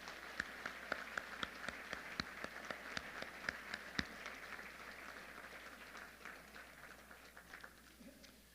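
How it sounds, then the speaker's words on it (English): Applause for Hall of Fame inductees at a Trinity induction ceremony: scattered, fairly faint clapping from a small crowd, with sharp individual claps early that thin out and fade toward the end. "let's give everybody a round of applause to all these Hall of Famers"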